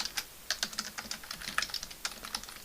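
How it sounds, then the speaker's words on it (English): Rapid keystrokes on a computer keyboard, typed to fill in package details for a Node.js Discord bot, come in uneven bursts of quick, close clicks with short pauses between entries. "we're going to type some things"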